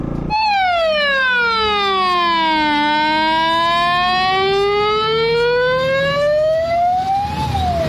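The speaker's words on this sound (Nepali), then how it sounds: "दमकल आउँदै रहेछ केटा हो." A fire engine siren wails loud and close, dipping in pitch and then climbing again in one long continuous sweep during a fire in Terhathum.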